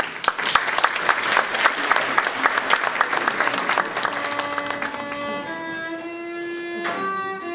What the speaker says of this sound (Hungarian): Fogadjuk őket nagy tapsolat!